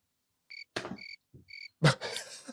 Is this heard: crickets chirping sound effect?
yes